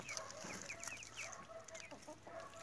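Chickens clucking on a small farm where young roosters and hens roam free in a backyard vegetable garden, with rapid, overlapping clucks and short calls close by throughout.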